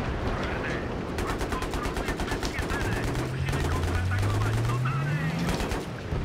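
Automatic gunfire in the video game Battlefield 3, with rapid, evenly spaced shots rattling in long, loud bursts over a steady background rumble and a low rising drone.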